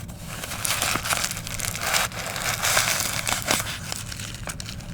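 Paper shoe trees are pulled out of New Balance sneakers, giving close, loud crinkling and rustling in repeated bursts with brief sharp crackles, no talking.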